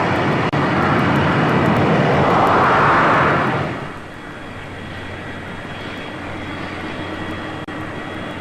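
Heavy jet airliner engines at Boston Logan airport roar loudly and swell to a peak after about three seconds, then drop to a lower, steady rumbling drone that continues to the end, with no voices.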